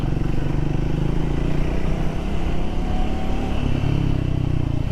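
A motorcycle rides a rough offroad stretch between Tamhini and Lavasa near Pune, its engine droning loud and steady throughout with rattling clatter over the uneven surface.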